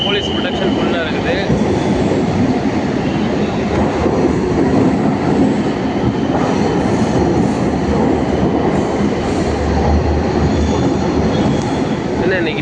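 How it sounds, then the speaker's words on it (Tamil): A Chennai MRTS suburban train runs between Velachery and St Thomas Mount, giving a steady, loud rumble of wheels and carriage noise throughout, with faint wheel squeal and possible muffled voices beneath. "ஆனாலும் மெதுவாக போகுது ட்ரெயின் எல்லாம்."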